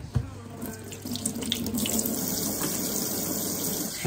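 A tap runs steadily as filtered water fills a vessel to be heated for washing soil from alocasia plant roots, a constant close splashing stream that holds even throughout.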